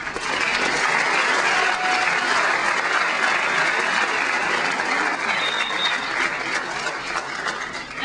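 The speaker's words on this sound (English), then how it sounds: "Please join me in thanking these individuals with a round of applause." Audience at a school honor wall award ceremony applauding, a dense, sustained round of clapping that holds steady for the full length and fades slightly near the end.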